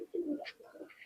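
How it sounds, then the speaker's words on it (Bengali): Pakistani Teddy pigeons, a prized breeding pair, coo in short low throaty bursts close by, with a brief higher chirp partway through. "দেখেন কবুতর দুইটা দেখেন"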